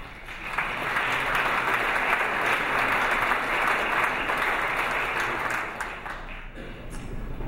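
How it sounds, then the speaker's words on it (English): A conference audience applauds for an association's committees, a dense, steady wash of many hands clapping at close range that holds evenly for several seconds and then begins to thin. "they deserve a big round of applause."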